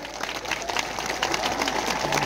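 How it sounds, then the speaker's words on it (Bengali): A crowd claps to welcome a local MLA at an outdoor political gathering by a bridge in Canning, Moukhali, a dense patter of many hands that keeps going at a steady moderate level, with faint murmuring from the crowd mixed in. "সবাই মিলে করতালি দিয়ে অভিনন্দন জানাবেন।"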